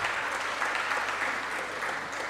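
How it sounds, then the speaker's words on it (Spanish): An audience at a legislative assembly session applauds, a dense, steady burst of clapping from many hands that holds evenly for a couple of seconds. "Vamos a dar un aplauso al diputado Aarón Camargo"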